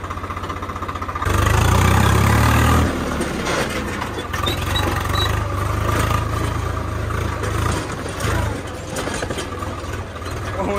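A tractor engine rumbles low and steady nearby, surging louder briefly early on, with voices talking faintly underneath.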